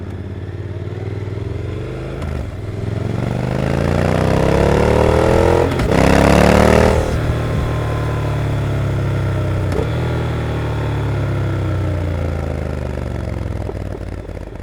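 Motorcycle engine running with a rising and falling rev partway through, harmonic engine tones sweeping upward then easing back to a steady idle-like hum, close and loud with no talk.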